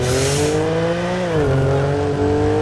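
A loud, sustained engine drone from a customized 2015 BMW M4 in GTA 5, with steady harmonic tones that shift slightly in pitch as the car holds speed, and a tire screech at the start.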